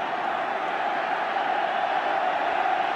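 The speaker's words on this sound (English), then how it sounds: "The crowd cheer them to the echo." A rugby test match crowd between England and New Zealand in 1983 roars and cheers continuously, a dense, loud, sustained wall of voices filling the stadium without pause.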